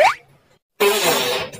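A sudden burst of broadband noise lasting under a second, following a short rising squeak and a moment of silence, fits a loud comedic fart sound effect in a spooky cartoon about a mother with a shopping bag.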